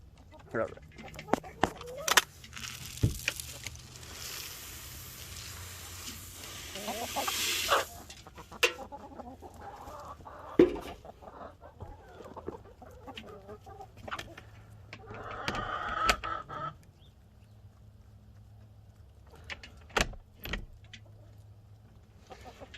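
Chickens cluck intermittently at close range, with scattered clicks and scraping noises and a soft low hum underneath.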